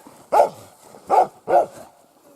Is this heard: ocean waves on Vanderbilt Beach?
no